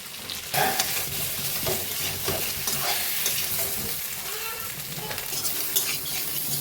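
Spice masala of turmeric, salt and red chili powder sizzles in a pan for a hilsa fish curry with taro, scraped and stirred steadily by a spatula, close and continuous with a dense hiss.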